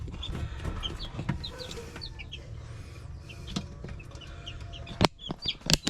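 Three-day-old unvaccinated baby chicks peep and chirp with many short, high calls scattered throughout, while a few sharper, louder clucks and knocks come near the end.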